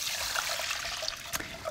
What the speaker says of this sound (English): I'm gonna cover that with some milk